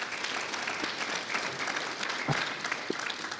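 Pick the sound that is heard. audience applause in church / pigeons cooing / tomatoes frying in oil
audience applause in church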